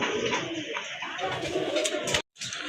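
Gola pigeons coo steadily and close by, a continuous soft throaty burble that breaks off briefly near the end before resuming.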